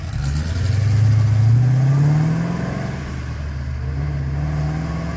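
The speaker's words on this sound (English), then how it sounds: "Listen to the car burble off." A 1976 Holden LX SS Torana hatchback with a 5-litre engine and four-speed manual drives past, its loud burbling note rising as it nears and then fading away, with no talking.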